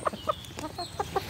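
Ameraucana hens and a rooster clucking in a farmyard at feeding time, a few short soft clucks spaced evenly and heard close but quiet.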